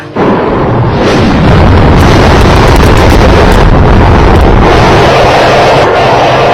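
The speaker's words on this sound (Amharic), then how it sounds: "ፈነዳ።" A fighter plane in the Ogaden war, hit by a rocket fired by Somali pilots, explodes in a sudden, very loud blast that keeps roaring as a dense rumble with wind-like noise, with no voices.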